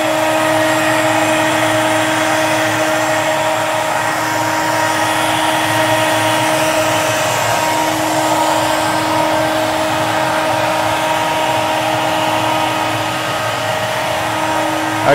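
A CNC router machining two benches from MDF sheet gives a steady, loud, continuous whine with a sustained motor drone and broadband cutting noise, running unbroken throughout with no talk.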